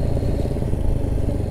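A motorcycle rolls past on a road in Way Tuba, Way Kanan, Lampung, with a steady, loud, close engine drone throughout the short stretch.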